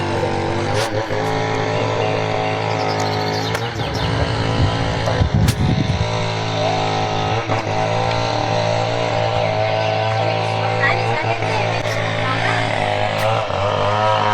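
An engine, likely a motorcycle, drones steadily close by along a village road in Barangay San Miguel, Dumalag, Capiz, with a louder rumble surge midway and faint voices in the background.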